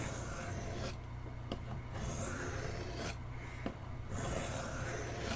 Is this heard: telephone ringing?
no